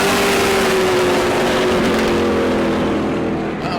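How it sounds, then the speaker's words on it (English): A rough-running E-Mod race car, number 25, drones loudly past at New Smyrna speedway, a strong sustained engine note that shifts slightly in pitch as it goes by and fades a little at the end. "Car 25 didn't sound too good."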